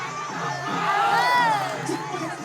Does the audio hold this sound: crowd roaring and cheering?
yes